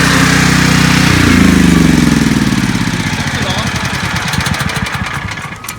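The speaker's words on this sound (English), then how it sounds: "this generator is on the louder side as far as generators are concerned." A Briggs & Stratton gasoline generator in a food trailer runs loud and close, its steady engine drone sagging and winding down toward a rougher, pulsing rumble as it is shut off.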